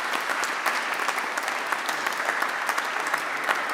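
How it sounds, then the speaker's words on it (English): Audience at a graduation ceremony applauds, a dense, steady clatter of many hands clapping at once, fairly loud and continuous without talk. "Could we please give them a big round of applause for the online broadcast?"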